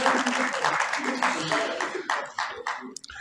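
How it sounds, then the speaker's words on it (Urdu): Audience applause at a book launch ceremony: a brief burst of scattered clapping from a seated crowd, fading after a few seconds into sparse claps. "تالیاں بجائی یار۔"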